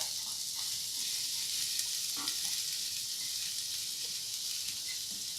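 Garlic sizzles over low heat in a pan of olive oil and rendered steak fat, an even, close, crackling hiss with a few faint clinks of stirring, no speech.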